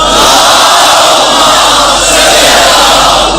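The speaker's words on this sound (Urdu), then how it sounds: "اس سے بہتر اور بلند صلوات" A large gathering chants salawat together in loud unison at an Eid-e-Ghadeer celebration, a dense roar of many voices that fills the space and holds steady throughout.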